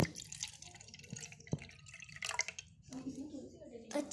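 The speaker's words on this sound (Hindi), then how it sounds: "मैं कोको कैन फेंक उसमें पानी डाल देती हूँ" Water is poured from above into an empty cocoa can outdoors, making scattered drips, splashes and small metallic knocks while voices talk over it.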